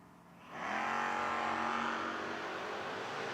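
Drag racing cars at a footbrake challenge event, a Camaro and a Dart, launch from idle into a loud, sustained roar of accelerating engines that stays strong and steady to the end.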